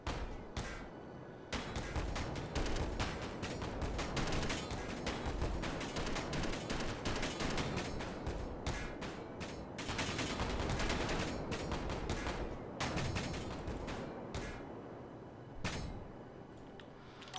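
Rapid, dense bursts of automatic turret gunfire in Space Engineers keep up loud, near-continuous rattling with only brief pauses, each round a sharp crack layered into a sustained barrage.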